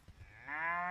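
Cattle on a hot Texas ranch pasture give a single long, rising moo that swells in the second half, close and clear with no voices around it.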